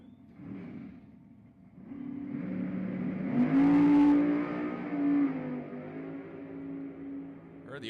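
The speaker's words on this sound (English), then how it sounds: "Heard the RPMs dip on JR's machine, and doesn't really matter" A drag racing car engine revs at an NHRA race at Houston Raceway Park, a loud, steady roar that rises in pitch and peaks midway before settling, carried along under a commentator's voice.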